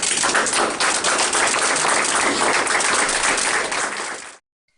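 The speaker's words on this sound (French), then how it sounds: "On peut applaudir." Audience applause at an inauguration ceremony, a dense steady wash of many hands clapping at close range for about four seconds before stopping abruptly.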